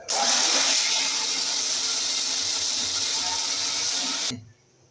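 A mixer grinder whirs loudly and steadily for about four seconds while grinding adamant creeper with water, then cuts off abruptly, leaving a quiet hum.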